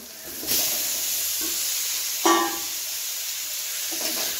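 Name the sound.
sautéing boiled potatoes with turmeric in a pan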